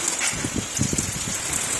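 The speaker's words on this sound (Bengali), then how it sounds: "বাপরে প্রচণ্ড ঝাপটা আসছে" Heavy rain from a cyclone storm beats down in a dense, continuous hiss, with gusty wind and spattering drops driving against nearby surfaces.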